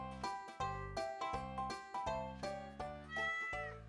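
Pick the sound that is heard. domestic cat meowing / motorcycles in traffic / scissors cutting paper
domestic cat meowing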